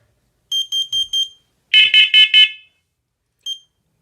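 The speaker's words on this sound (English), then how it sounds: "That's how you replace a hardwired smoke alarm." Hardwired smoke alarm sounding alone, loud and close: four sharp piercing beeps, a brief pause, four more even louder beeps, then one final single beep after a gap.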